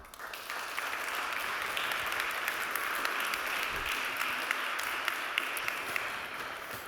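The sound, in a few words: conference audience applause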